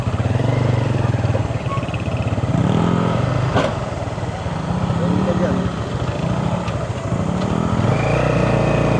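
A Yamaha Aerox scooter converted into a tricycle rattles along a rough road, its small engine buzzing steadily and close with shifting revs, while people talk over it.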